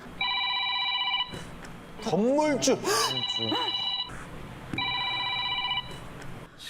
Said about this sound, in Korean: 시끄러운데 전화 안 받고 뭐해?